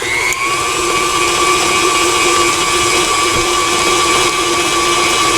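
An electric stand mixer runs at raised speed while mixing chocolate chip cookie dough, a loud steady motor whine with constant tonal hum and no pauses.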